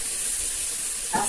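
Garlic frying in a pan for Bahian-style beans, a soft steady sizzle that swells briefly near the end.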